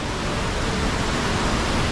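A massive Bali waterfall in rainy season roars as a steady, dense broadband rush of falling water, loud and unbroken with no voices.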